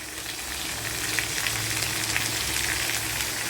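Onions frying in oil with dried red chillies for a tamarind curry, a steady close sizzle with small crackling pops throughout and no talk.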